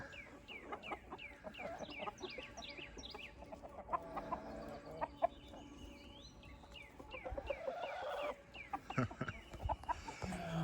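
A flock of chickens clucks and chatters continuously nearby, overlapping calls with occasional louder squawks and some shuffling sounds.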